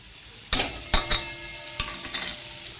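A paste of ground coconut, garlic, ginger and coriander hits hot oil and sizzles, with a few sharp scraping stirs of a spoon against the pan, close and without speech.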